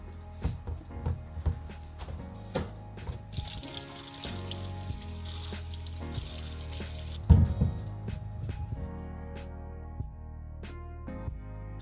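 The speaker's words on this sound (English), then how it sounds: "we might as well wash our potatoes at the same time that we wash all our vegetables" Potatoes and vegetables washed under running water in a kitchen: a steady splashing flow with drips, squishy handling and occasional clunks against the sink.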